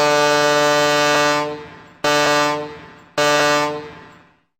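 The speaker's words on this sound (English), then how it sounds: "Start sounding your foghorn." A ship's foghorn gives three loud, deep blasts in a row, each one sustained and then tailing off, heard alone with nothing else in the background.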